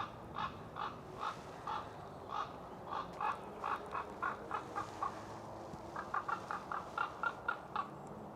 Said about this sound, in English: Ravens cawing all the way up there.